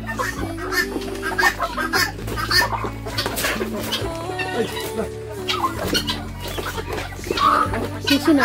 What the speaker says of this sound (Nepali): हाम्रोमा चाहिँ टर्कीहरू पनि छ लोकल कुखुराहरू पनि छ तित्रा पनि छ